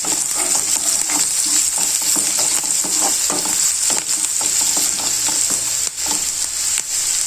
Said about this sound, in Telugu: అంతా కలుపుకోవాలండి